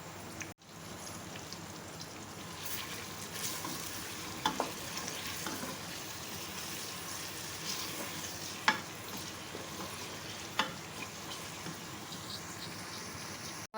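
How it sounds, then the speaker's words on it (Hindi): Finely chopped onions fry in a pan toward light golden brown for a mutton gravy masala, giving a steady soft sizzle with occasional stirring scrapes and small pops, fairly quiet and unbroken throughout. "खूब अच्छी तरह से इनको लाइट गोल्डन ब्राउन सा करेंगे।"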